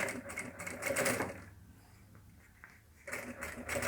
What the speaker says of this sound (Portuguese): eu vou costurar aqui somente no comecinho e no final, com retrocessos